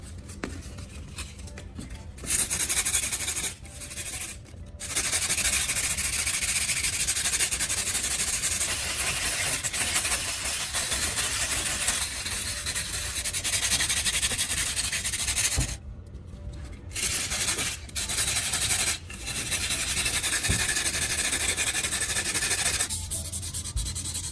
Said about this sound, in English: Before we sharpen, let's give this old knife a quick cleanup.